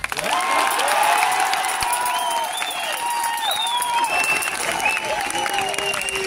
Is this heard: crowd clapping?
yes